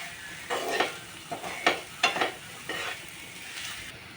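Radish fry cooks in a pan as a spoon scrapes through it in several short strokes over a soft, continuous sizzle, close and moderately loud, with no voices.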